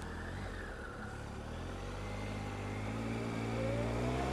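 A motorcycle pulls away slowly under clutch control at a junction, its engine note rising gradually from a low drone to a steadier hum as it creeps forward, close and moderately loud, with no speech.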